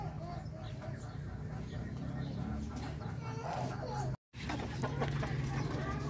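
Darag native chickens cluck in short bursts on a Philippine farm, while a person talks over them and a brief dropout breaks the sound near the end.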